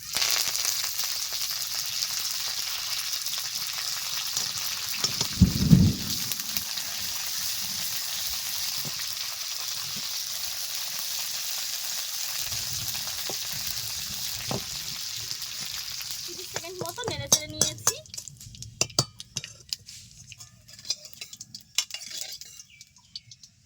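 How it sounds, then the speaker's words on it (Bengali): Black mustard seeds, chopped dried chillies and curry leaves hit hot oil, a steady loud frying sizzle running throughout, with a burst of crackling spatter near the end and a low thump early on; no one speaks. "তেলটা গরম হয়ে গেছে দিয়ে দিচ্ছি কালো সরিষা আর দুটো শুকনো লঙ্কা ছোট ছোট করে কেটে নিয়েছি আর এখন দিয়ে দিচ্ছি কারি পাতা"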